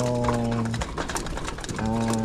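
Pigeon cooing close by, with two steady cooing phrases bracketing a short busier stretch in the middle, over a continuous background of other bird noise.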